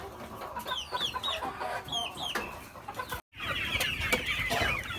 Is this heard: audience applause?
no